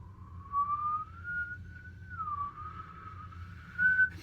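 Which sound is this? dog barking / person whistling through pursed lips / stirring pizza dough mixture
person whistling through pursed lips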